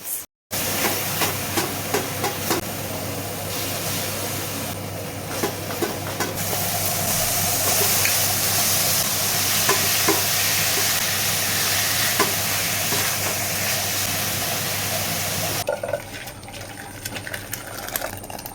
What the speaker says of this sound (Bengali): পেঁয়াজটা ভাজা হোক, আমি ততক্ষণ টমেটোটা বেটে নিচ্ছি।